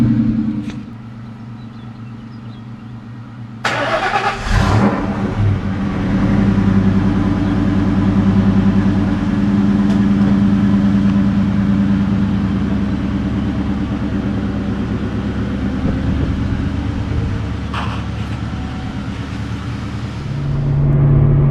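A Ford 4.6 liter V8 engine idles and runs with a steady low rumble, close and loud, shifting after a few seconds to a fuller, continuous drone as the vehicle gets moving, with no talking.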